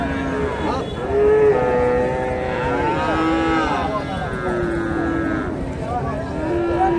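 Friesian cross bulls at a busy cattle market in Bogura low out in repeated long moos, several calls overlapping close by amid steady crowd murmur.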